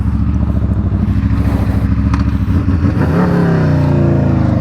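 Sport motorcycle engine, a BMW S1000RR or Aprilia RSV4 with a GP-shift pattern, revving hard while riding; loud, continuous engine roar with rising pitch toward the end and no talk.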